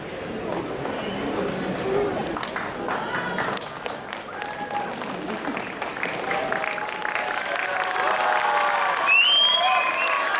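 Sustained clapping from an audience at a talent show grand finale rises steadily and grows louder toward the end, with voices and faint cheering mixed into the applause.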